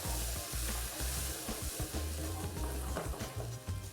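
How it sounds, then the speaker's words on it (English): Beef stock simmering in a pan for beef stroganoff, a steady close bubbling sizzle with soft crackles and occasional stirring clinks, alone with no talk. "we're going to add a little beef stock and bring that just to a simmer"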